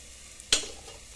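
Onions sautéing in oil for a homemade puliyodharai tamarind-rice masala: one quick, sharp stir-scrape burst flares over a faint, steady sizzle, then fades away within the second, no talking.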